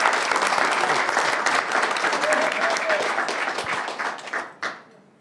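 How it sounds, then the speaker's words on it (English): A room full of people at a board meeting applauds steadily and loudly, then the clapping thins out and fades to quiet at the end. "Can we give them another round of applause?"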